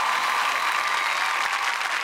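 Loud, dense applause from a large audience at a Marathi stage event, steady clapping filling the whole stretch with no voices over it.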